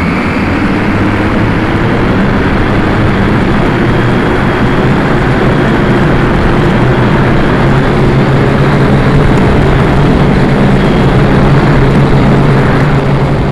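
Syma X5C quadcopter flying at low level, its propellers producing a loud, constant buzzing whir with a droning low hum, steady and close for the whole stretch without speech.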